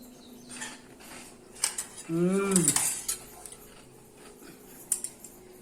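A metal spoon scrapes and clinks against a plate while eating rice with shallot and potato sambar, brief soft taps around a louder clatter, with a voice briefly in the background.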